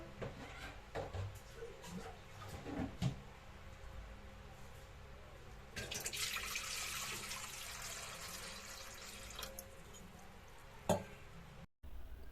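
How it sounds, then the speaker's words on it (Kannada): Water pours steadily into a pot for a few seconds amid quiet kitchen clatter, bracketed by occasional clinks of metal. "ಒಂದು ಪಾತ್ರೆ ಇಟ್ಟಿದ್ದೀನಿ ಇವಾಗ ಇದಕ್ಕೆ ನೀರು ಹಾಕೋಬೇಕು"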